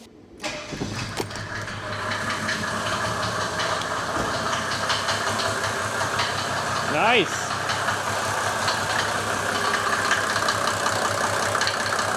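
A Mercedes-Benz 124 cranks briefly, catches and then settles into a steady idle that carries on close by at an even level, with a short whine partway through and a single brief spoken word.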